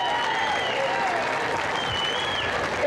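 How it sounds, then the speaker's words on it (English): Crowd at Oscar López Rivera's homecoming in Humboldt Park breaking into sustained applause, dense continuous clapping with some cheering and shouts, close and loud throughout. "applaud for those words that Oscar wrote"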